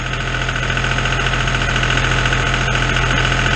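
A John Deere farm tractor engine runs after an oil change, a loud, close, steady diesel idle with a rough, knocking pulse as it clears air from the fuel.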